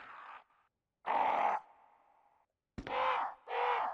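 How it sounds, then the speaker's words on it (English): Crows in Resident Evil HD Remaster give several loud, harsh caws in short bursts separated by pauses, close and alone. "That's, oh, it's a crow."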